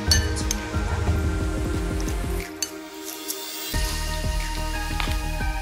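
Boiled potatoes being mashed in a bowl for a breakfast snack, giving repeated close clinks and soft squishy knocks in a steady rhythm with a brief pause midway.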